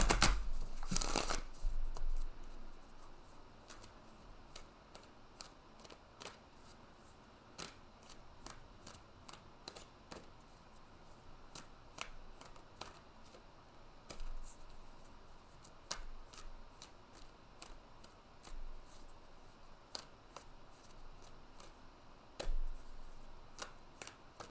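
Tarot cards are shuffled by hand in a long, unhurried sequence of soft riffling snaps and clicks, irregular and close, with a quiet room behind.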